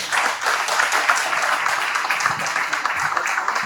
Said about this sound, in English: Round of applause for our panel, please.